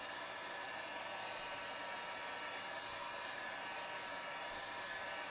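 A heat gun blows hot air onto stretched heat transfer vinyl, giving a steady, even hiss of airflow that stays constant and fairly faint, with no voices over it.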